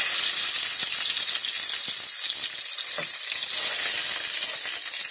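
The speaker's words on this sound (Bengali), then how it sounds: "আমি আলুগুলোকে এখন খুন্তি দিয়ে কেটে দেবো।" Potatoes being chopped with a spatula in a pan of frying ghugni, heard as a loud steady sizzle with soft scraping and stirring knocks close by.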